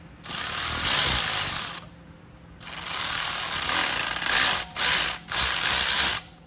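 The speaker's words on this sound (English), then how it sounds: "You just had to retap it." Tap being run into a tight bolt hole on an LS engine block during a build, giving loud grinding ratchet-like bursts of cutting and clicking in several long stretches with short pauses between.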